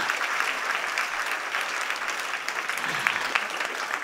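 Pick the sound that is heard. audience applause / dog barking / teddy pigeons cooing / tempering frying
audience applause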